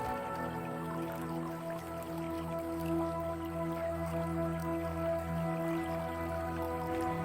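Water circulating through a small homemade mini waterfall built into a decorative miniature house with a water reservoir, giving a steady continuous trickle and drip with a low pump-like hum underneath, close and moderately quiet, no talking.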